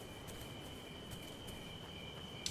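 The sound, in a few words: crickets at nightfall in video game The Solus Project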